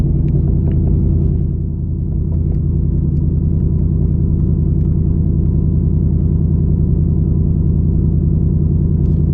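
A Ford Mustang GT S650 running on an E40 ethanol blend idles after a fresh start, a loud, steady low rumble with a smooth, even engine pulse close by.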